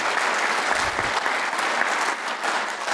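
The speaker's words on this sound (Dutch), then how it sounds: "mag ik een applaus voor deze vier?" A crowd at a student election debate at Tilburg University applauds steadily, a dense, even patter of many hands clapping for the full few seconds.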